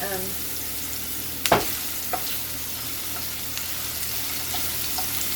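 Garlic sizzles in a pan for shrimp fried rice, a steady close-up frying hiss with a few clanks and stirring knocks from a utensil against the pan.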